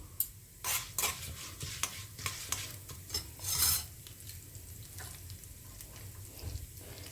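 Grated coconut roasting in a pan, with a utensil scraping and stirring through it in repeated strokes over a soft, continuous sizzle, close and moderately loud, with no talking.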